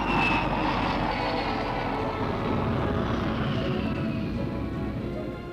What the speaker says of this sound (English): Now that it's airborne, the Super VC-10 must be put through test after exhaustive test